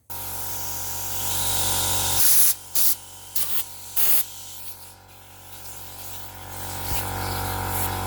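An air compressor blows air while fitting heated motorcycle grips, giving a loud steady hiss broken by several short bursts with gaps between them, then a continuous lower blast, with no talking.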